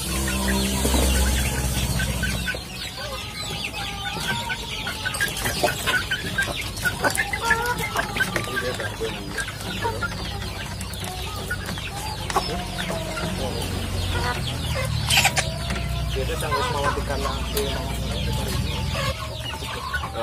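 Flock of about 120 chickens clucking in a poultry pen, many overlapping clucks and calls near and far, steady throughout, with a brief low rumble at the start.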